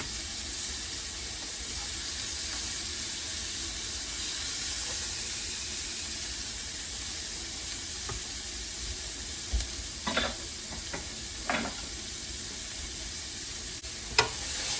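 Steak for Swiss steak sizzles in a hot pan with a steady, soft frying hiss, quiet and close, broken by a few sharper crackles and clinks near the end.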